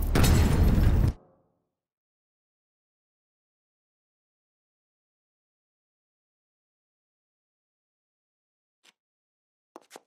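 A bomb goes off in Batman: Arkham Knight, a single loud, full burst in the first second that cuts off sharply, followed by near silence with only a couple of faint clicks near the end.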